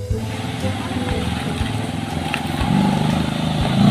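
A motorcycle engine runs steadily nearby, its low rumble building louder toward the end as if revving up, with faint background noise.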